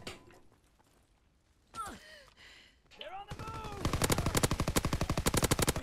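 Machine gun turret in Call of Duty WW2 fires a long rapid burst of loud, evenly spaced shots after scattered earlier gunfire and whooshing effects.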